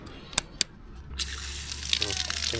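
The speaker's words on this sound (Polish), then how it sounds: "Przyjechaliśmy zatankować sobie wodę." Water from a hose gushes steadily into a vehicle's water tank after a couple of sharp clanks, running continuously and close while people talk.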